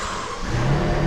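A Rolls Royce engine catches and starts, its low rumble swelling into a brief rev, loud and close with no voices.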